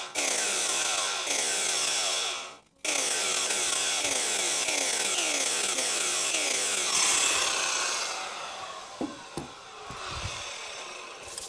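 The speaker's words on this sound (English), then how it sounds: "You can use a handsaw, but Ted's left this plugged in, so I'm going to use this" An electric power saw cuts round pieces of wood outdoors in cold weather, a loud close rasping, repetitive sawing with a brief stop partway, then winding down into lighter scrapes and knocks.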